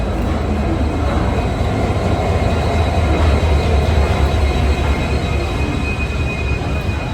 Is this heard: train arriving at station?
yes